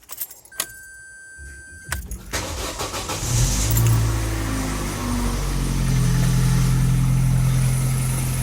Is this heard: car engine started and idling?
yes